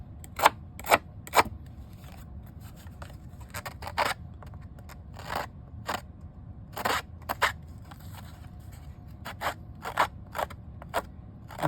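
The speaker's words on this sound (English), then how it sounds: "run those scissors or that distressing tool down the edge" Scissors scraped down the edge of a paper card to distress it, a series of crisp rasping strokes in an uneven rhythm, close and fairly loud, with no talking.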